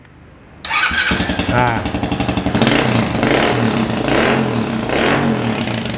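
A small mini trail motorcycle engine, HSX or SK 110 semi-manual, kicks to life and idles with a rapid putter, then revs up and down in several loud surges; a voice briefly speaks at the start.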